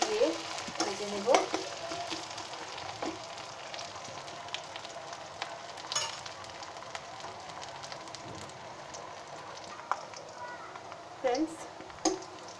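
Chopped onions fry in a pan with a soft, steady sizzle, broken by occasional scraping stirs and utensil clinks, while a person talks over the cooking.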